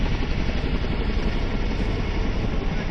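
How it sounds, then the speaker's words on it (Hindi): A Chinook helicopter lifting a shipping container at Hindan airbase gives off a steady, dense rotor roar, continuous and fairly loud throughout. "चिनूक हेलीकॉप्टर ने शिप पर जाने वाले कंटेनर को करतब दिखाते हुए बड़ी आसानी से उठा लिया"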